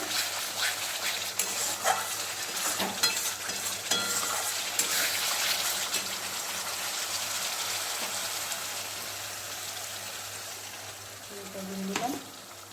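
Spice paste sizzling in oil in a wok while a Bengali potol and prawn curry is stirred, a steady hiss running throughout with scattered clinks and scrapes, and a voice briefly heard in the background.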